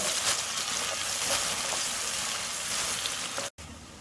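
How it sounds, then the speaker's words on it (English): Finely chopped onion sautéing in half a cup of hot oil in a pan, a loud, dense, continuous sizzle up close that cuts out abruptly near the end, with no talking. "Add half cup oil into the pan. Add 1 medium finely chopped onion. Saute until golden brown."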